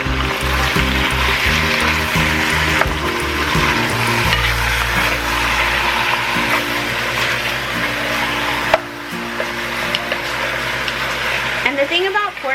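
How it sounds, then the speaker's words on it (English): Pork butt with oregano and cumin stirred and sizzling in a pan, a steady frying hiss with scraping stirs, accompanied by music and a speaking voice throughout. "We're going to give this a quick stir."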